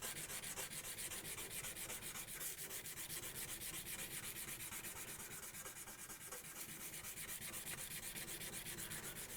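Steady, continuous scratchy rubbing of 220-grit sandpaper by hand back and forth across a metal blade, a dense rasp with no voices.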